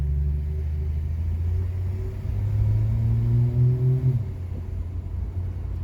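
A car with a Slant Six engine accelerates from a green light, its low steady rumble rising in pitch for about four seconds before easing off, heard from inside the vehicle.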